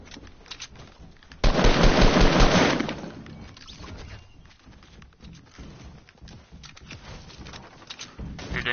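Rapid bursts of gunfire in a video game, a loud dense volley lasting over a second followed by scattered quieter shots and clatter.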